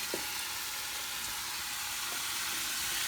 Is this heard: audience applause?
no